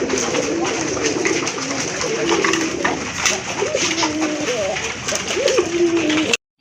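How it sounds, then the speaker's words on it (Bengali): A pair of large Gopalganj pigeons kept in a loft coo in low, rolling bursts close by over a continuous background hum, and someone speaks throughout. "প্রথমে আপনারা দেখতে পাচ্ছেন এক জোড়া বড় পায়রা কবুতর।"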